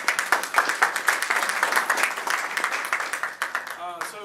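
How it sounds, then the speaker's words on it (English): An audience at a Convention of States presentation breaks into sustained clapping, dense and even for several seconds before thinning out, with a voice briefly audible at the end. "if you wouldn't mind giving him a round of applause"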